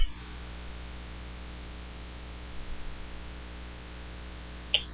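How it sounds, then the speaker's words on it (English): A loud laptop gives off a steady low electrical buzz and hum, faint and constant in the background with no one speaking. "sorry if you hear buzzing in the background, just my laptop's really loud"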